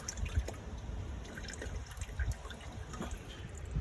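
Motor oil drains from a car's oil pan in a soft, continuous trickle with faint irregular drips and splashes, close by and quiet, with no speech.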